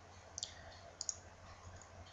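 Two sharp, quiet computer mouse clicks while working in RollerCoaster Tycoon 3 custom track software, the first a quick double click near the start and the second about a half second later, over a low steady hum.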